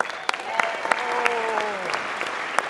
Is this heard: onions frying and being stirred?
no